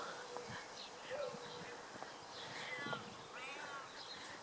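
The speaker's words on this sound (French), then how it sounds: "Il y a un chat qui voudrait rentrer mais qui n'a pas le droit." A cat meows outside a garden shed, a few faint short cries scattered among quiet outdoor background noise, with soft talk nearby.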